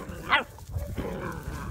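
A small long-haired white Chihuahua gives one short, sharp yip-like bark nearby, then low background rumble and quiet rustling follow.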